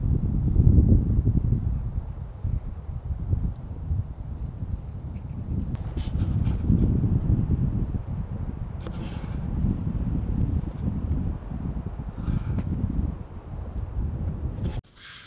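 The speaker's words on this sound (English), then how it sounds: "So as soon as I started talking, saying there's no more wind, we just got blasted." Strong south wind gusts across a frozen lake at Spray Lakes in the Rockies during an ice fishing trip, a steady low buffeting roar that swells and eases throughout with no talk.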